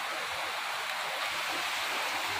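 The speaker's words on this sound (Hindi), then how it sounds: "रोज बारिश होती है ना," Heavy rain pours down during a storm, a steady, dense hiss with no breaks and no voices, fairly soft throughout.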